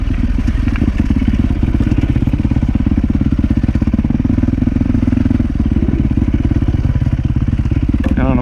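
A dirt bike rides a rutted trail on the Grand Mesa, its engine droning steadily and loud, close up, with clattering from the terrain throughout; a rider's voice may be faintly under the engine.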